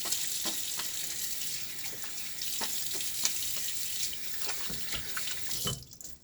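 Tap water runs steadily into a sink for a partial rinse of a razor and lather during a wet shave, a close, even hiss that cuts off just before the end.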